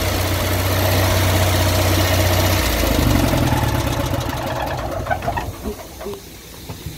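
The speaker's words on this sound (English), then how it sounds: "We have a generator back here." A generator on a 1995 Winnebago Adventurer RV runs with a steady mid-pitched drone that shifts partway through and then fades, leaving quieter outdoor sounds with faint bird calls.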